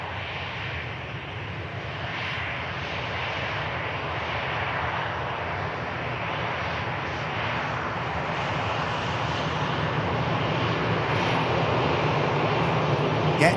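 A Pegasus airliner departs Manchester Airport, its engine roar a steady, broad rumble that gradually builds in loudness over about fourteen seconds with no talk.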